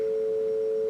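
Two steady synthesized tones at 440 and 550 hertz sound together as a pure, unwavering chord. They hold at constant loudness for just under a second, with no other sound.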